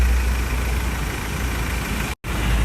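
A 2.2-litre diesel engine in a 2012 Ford Ranger pickup idles with a steady low rumble, broken by a very brief dropout near the end.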